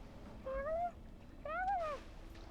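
A cat gives two drawn-out, rising-and-falling meows about a second apart, fairly clear over a faint background hum.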